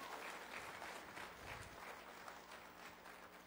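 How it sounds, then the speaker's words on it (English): A church congregation claps together in sustained, even applause, a dense wash of hand claps heard from within the room, with a faint voice underneath. "You guys give them a hand clap."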